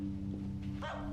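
A dog barks once near the end, a short sharp yip-like bark standing out over a steady low hum and background murmur, fairly close.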